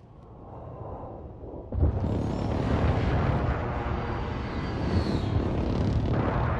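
Airstrike explosions with aircraft roaring overhead in the video game Warzone: a sudden heavy boom, then a dense, sustained rumble of blasts and engine noise that stays loud to the end.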